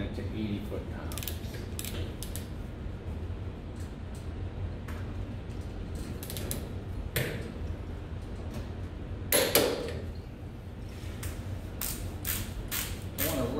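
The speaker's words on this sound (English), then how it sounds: "I'm torquing it to 80 foot-pounds." A torque wrench ratchets a fastener to 80 foot-pounds on a Volvo Penta DPS lower unit, making faint, sparse metallic clicks and creaks over a quiet workshop background.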